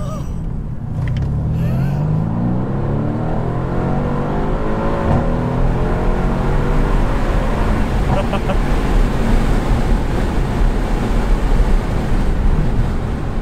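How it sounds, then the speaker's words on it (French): A Mercedes C63 AMG downshifts on the road, its engine rising and falling in pitch as the revs climb through the gear changes over loud, continuous road and cabin rumble. "Puis qu'on rétrograde comme ça."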